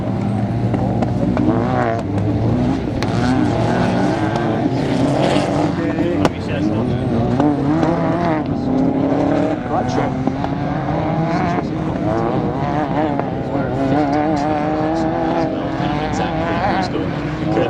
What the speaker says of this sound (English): This little Mark II Escort is pushing on